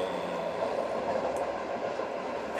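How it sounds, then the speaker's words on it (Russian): Steady rumble of a moving passenger train heard from inside a sleeper compartment on the Makhachkala–St Petersburg service, train no. 135, a continuous broad hum and rattle with no voices. "в купе находясь, поезда Махачкала-Санкт-Петербург, 135-й поезд"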